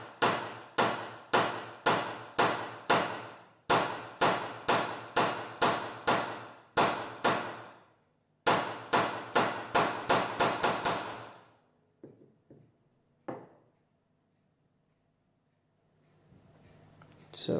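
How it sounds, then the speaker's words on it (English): A hammer strikes metal in rapid, even bursts of sharp ringing blows, flattening and tapering the end of a small metal piece for a clock oiler; the blows stop and a few faint knocks follow. "I'm gonna hit the end a bit more with the hammer than the rest of it"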